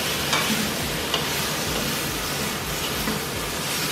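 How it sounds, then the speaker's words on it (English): Ground beef browning in a pot for a paleo beef stew, giving a steady close sizzle with occasional spoon scrapes as it is stirred, with no talking. "we're just going to slightly brown the meat a little bit"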